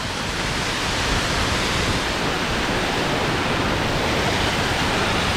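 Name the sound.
Melincourt Falls waterfall torrent after heavy rain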